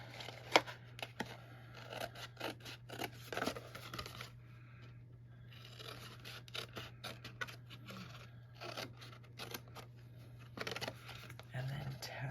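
Paper being cut with scissors while making a Christmas tree treat box, a few short crisp snips and scrapes close by over a steady low hum, with quiet talk in the background.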